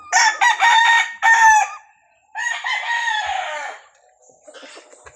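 A fighting rooster crows loudly and close in a backyard, giving several long cock-a-doodle-doo calls with short gaps between them, and a softer clucking tail fades at the end.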